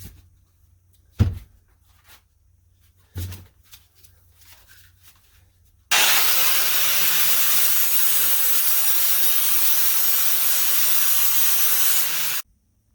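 Steel steering knuckle from a Dana 44 axle being trimmed with a loud, steady cutting tool that runs hissing continuously for about six seconds, after a couple of soft clunks.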